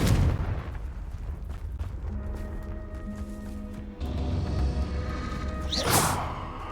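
Repeated fire-blast spell casts in Hogwarts Legacy, a video game: explosive booms and whooshes under a steady game soundscape, with a bright rushing burst near the end.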